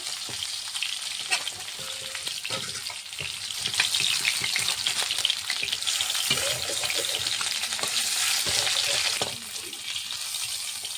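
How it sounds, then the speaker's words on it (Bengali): Fish sizzles and crackles in hot oil in a pan, a steady frying hiss with occasional scraping and stirring clatter close by. "মাছটা ভাজা হয়ে গেছে, নামিয়ে নেব।"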